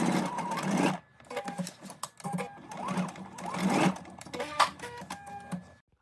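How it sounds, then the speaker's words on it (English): A sewing machine stitches along the pocket lines of a garment, running in short close bursts with brief pauses between them, a rhythmic mechanical whir with a clattering needle. "you're going to stitch along the stitching lines for the pocket"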